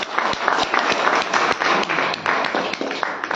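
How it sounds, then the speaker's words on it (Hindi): An audience at an Indian business meeting claps together, a loud, continuous burst of many hands with sharp individual slaps standing out, lasting a few seconds with no talking. "मुमताज मैडम नहीं आई है ना, उनके लिए एक बार ताली बजाती है"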